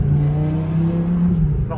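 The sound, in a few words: Lamborghini engine running and revving after restart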